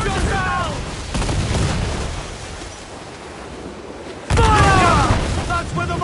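Heavy ship cannons boom across open water during a naval battle in Assassin's Creed Black Flag, with loud broadband blasts over surf and wind while shouted crew voices carry through.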